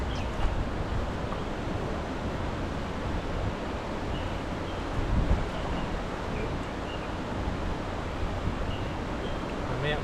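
Strong wind buffets the microphone in a constant rough roar outdoors where fish are being cooked in a pan, with a brief louder gust midway and no clear voices.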